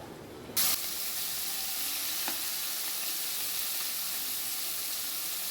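A sharp hiss bursts out when fish goes into hot oil in a frying pan, then settles into a continuous loud, close sizzle.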